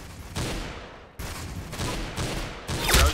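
Gunfire in the Roblox game Arsenal comes as a few sharp bursts of rapid shots spaced across a few seconds at moderate volume, with no talk over them.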